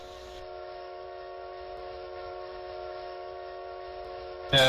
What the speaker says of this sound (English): this should be making a whistle sound